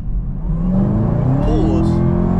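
A Chevrolet Camaro ZL1 engine pulls hard under acceleration from inside the cabin, a loud steady roar rising in pitch with a faint whir on top.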